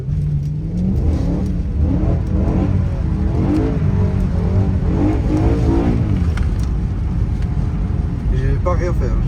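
A BMW M3 E93 engine revs and re-accelerates inside the car during drifting, rising engine tone under steady cabin noise while people talk over it.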